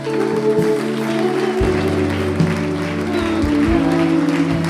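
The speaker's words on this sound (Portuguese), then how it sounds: "Você pode dar um forte aplauso ao Senhor Jesus?" A church congregation claps together in sustained, loud applause during worship, with a steady wash of hands and faint voices mixed in.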